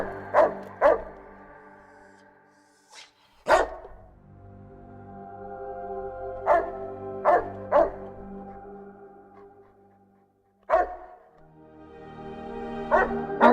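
Dogs in Fallout: New Vegas bark in sharp, separate bursts, single and paired, with quiet gaps and a low background hum between them.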